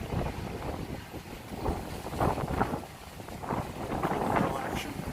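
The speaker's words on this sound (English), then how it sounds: "Oh, it's a little breezy." Gusty wind buffeting the microphone outdoors in the Wynwood Arts District of Miami, a steady rumbling rush that swells and eases in waves, with faint voices underneath.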